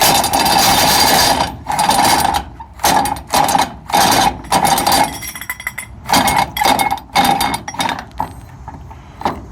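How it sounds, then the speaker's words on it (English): A cargo strap being rolled up on a flatbed trailer, giving loud bursts of rattling, clicking mechanical noise from the buckle and webbing in uneven spurts with short pauses between. "get all your straps rolled up nice and neatly"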